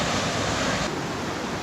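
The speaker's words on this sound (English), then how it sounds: "here's the top of Vernal Falls" Steady roaring rush of water at the top of Vernal Falls in Yosemite, a loud, unbroken broadband torrent close by with no other sounds.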